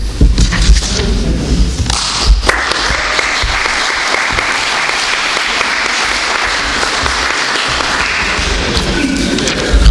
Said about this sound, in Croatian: Hvala na aplauzu